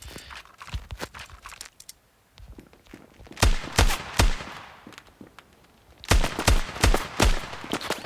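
Shotgun blasts in the Standoff 2 mobile game come as sharp, close reports, a few scattered early, then two dense bursts of rapid shots separated by a quieter gap.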